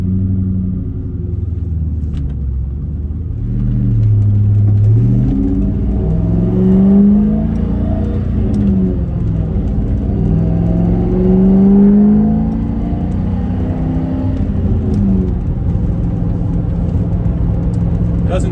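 Ford Mustang Cobra with a V8 engine pulling away on a drive, its engine rumbling and revving up and down steadily from inside the car.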